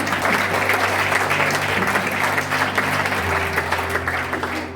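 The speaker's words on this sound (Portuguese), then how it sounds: "Vamos aplaudir ao Senhor pelos casamentos aqui no nosso meio" A church congregation applauding, with a busy spread of many hands clapping for several seconds over steady sustained instrument tones in the background.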